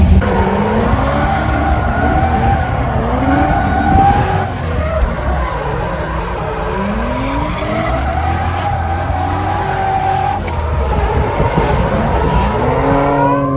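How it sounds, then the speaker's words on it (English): A supercharged Corvette driven hard, engine note rising and falling through repeated revs with tire squeal and skidding, loud and close throughout with no talk. "Drive the Corvette so he can give his opinion on what he feels like the supercharger does for it."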